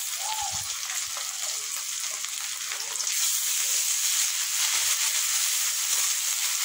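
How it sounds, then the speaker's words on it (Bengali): Ginger-garlic paste with cumin hits hot oil over already fried onions, giving a continuous frying sizzle that swells louder about halfway through, with a few faint low knocks early on. "পেঁয়াজ ভাজা হয়ে গেছে এবার আদা রসুন বাটা দিয়ে দিচ্ছি"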